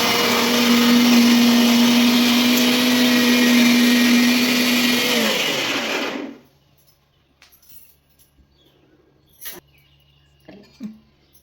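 An electric mixer grinder blending chutney roars loudly and steadily for about six seconds, then cuts off, leaving near silence broken by a few soft clicks and knocks.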